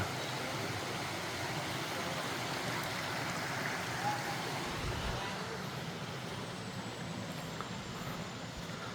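Steady broadband rush of the Hoi Khua waterfall stream at a jungle park entrance, a constant dense roar filling the whole stretch without pause, with a speaker talking faintly over it.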